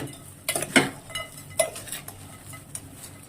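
Lady's finger fry being tossed and stirred in a pan, giving a few close metallic scrapes and clinks of a spatula against the pan with quiet gaps between them.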